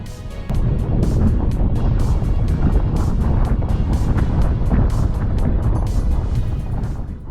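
Strong 35-knot wind roars across the microphone during slalom windsurfing at sea, a loud, constant buffeting rush that swells after a brief quieter opening and holds for several seconds with no talk.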